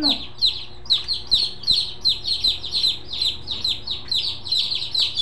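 Chicks chirp in rapid, overlapping high peeps that run continuously at close range, with a low background hum and no talking.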